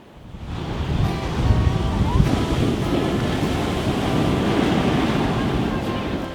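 Ocean surf at Waimea Bay on the North Shore of Hawaii, a steady loud roar of breaking waves with wind rumbling across the microphone, continuous and close throughout.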